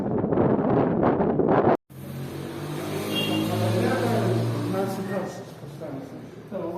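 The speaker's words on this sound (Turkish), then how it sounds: "Neyse çok rüzgar var. Ses büyük ihtimal kötü çıkıyor." Heavy wind buffeting the microphone with a low rumble during a bicycle ride, following a burst of close talking that cuts off abruptly.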